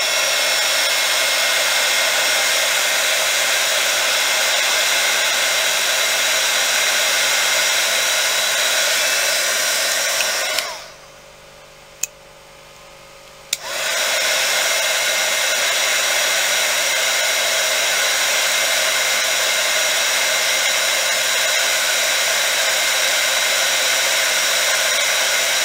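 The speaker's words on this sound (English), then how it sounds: "this heat gun does get hot enough, it will start to brown" A heat gun blows hot air at a rubber stamp to soften it for polymer clay work, a steady loud close whir that cuts out for about three seconds midway before resuming.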